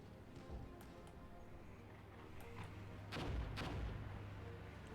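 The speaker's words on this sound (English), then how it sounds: "Mortar's landing" Mortar rounds landing near a bridge held by infantry in the Armored Brigade wargame: scattered faint thuds, then two louder booming impacts in quick succession, over low steady background noise.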